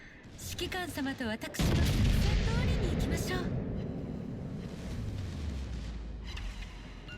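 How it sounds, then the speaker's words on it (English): Heavy battleship guns from both broadsides in World of Warships Legends open with a loud, sustained booming roar after a brief stretch of voice, then settle into a long rumbling tail. "it's always good fun when you get both sides of the ship firing guns here"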